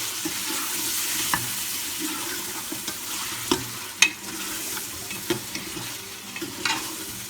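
Meat frying in oil in a pot for beetroot gosht, with tomatoes and salt in the pan, a steady crackling sizzle under occasional sharp clinks and stirring scrapes, close and alone without voices.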